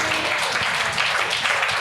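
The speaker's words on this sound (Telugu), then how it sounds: "చప్పట్లు కొట్టండి" A congregation clapping together in a church service, a dense, steady wash of applause filling the room at close range for a couple of seconds.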